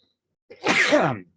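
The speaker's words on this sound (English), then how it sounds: "I gotta sneeze real quick" A single close, loud sneeze with a short sharp intake leading into a forceful burst, then silence.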